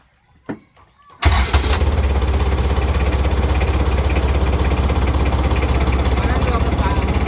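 A Kubota D1005 diesel engine cranks and fires after a second of quiet, then settles into a loud, steady clattering run, close by. There are brief voices before it starts.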